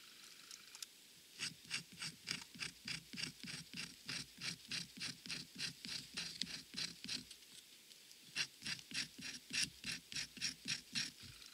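A Roselli Leuku R150 knife shaving feather curls from a wooden stick with light rapid tapping strokes, a dense run of short rasping scrapes in steady rhythm, close and clear, with a brief pause midway before the strokes resume.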